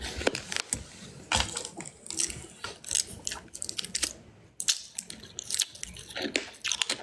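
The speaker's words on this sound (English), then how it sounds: "How do I crunch it? Let's crunch it." A Jolly Rancher hard candy being crunched between the teeth, with a series of sharp, irregular cracking bites and grinding chews close to the mic, separated by short quiet pauses.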